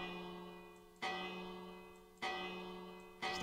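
A village bell in Minecraft struck three times at an even pace, each clear metallic clang ringing out and slowly fading before the next strike.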